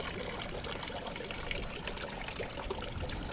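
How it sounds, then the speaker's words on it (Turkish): Water running from a public fountain at a Hindu temple site in Bali, a continuous splashing trickle heard close and steady throughout, with no talk. "Sebil'den su akıyor."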